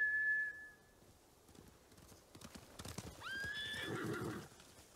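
A samurai horse in Ghost of Tsushima neighs loudly and trots back. A short whistle comes first, then hooves clop closer before a clear, rising whinny rings out near the end.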